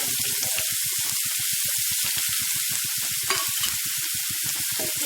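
Grated carrot is stirred into samai (little millet) sevai in a hot pan. Quick, rhythmic scraping strokes repeat steadily over a soft background sizzle, close up and with no talking.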